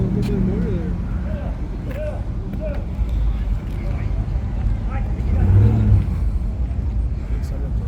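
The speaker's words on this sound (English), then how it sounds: "Look at that. There's a drag truck. That thing came in." A drag truck engine rumbles in and arrives at a truck show, a low heavy drone building louder toward the end beneath steady nearby talk and crowd chatter.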